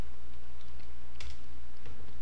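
Close computer keyboard typing while renaming a layer in Flash, a steady run of soft key clicks over a constant low hum, with one sharper click in the middle.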